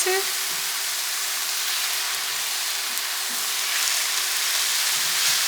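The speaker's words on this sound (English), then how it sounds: "we're gonna go ahead and stir this up a bit" Food sizzling steadily in a pan over medium-high heat as it is stirred, a constant bright hiss with a faint tonal hum underneath, close and fairly loud.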